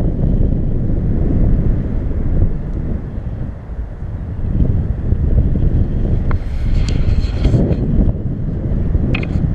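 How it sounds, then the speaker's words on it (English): Strong wind buffets a GoPro microphone continuously, a loud low rumble with occasional gusts, no voices heard. "it was too windy, so I know that my GoPro would not be able to pick up my voice"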